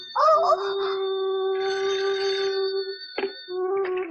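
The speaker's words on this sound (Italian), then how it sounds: "Oh, il telefono." A telephone rings in an anime episode, a sustained warbling electronic tone with a brief break near the end, moderately loud, accompanied by other animated soundtrack sounds.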